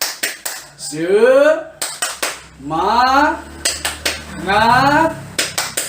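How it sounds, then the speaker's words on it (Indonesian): A group of women performs a rhythmic spirit clap, tepuk semangat, with crisp sets of hand claps in a repeating pattern alternating with loud drawn-out group chanting in between. "Kita kasih dulu tepuk semangat ya."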